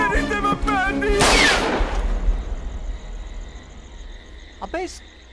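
A voice speaks, then a single loud, sharp gunshot bursts out and rings into a fading rumble; a brief fainter crack follows later.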